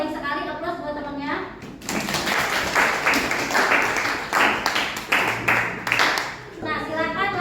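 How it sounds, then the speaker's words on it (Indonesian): A classroom applauds a classmate with a burst of clapping that lasts several seconds, with a teacher speaking before and after it. "aplaus buat temannya"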